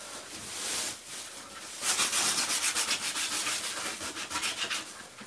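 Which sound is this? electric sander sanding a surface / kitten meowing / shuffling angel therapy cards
electric sander sanding a surface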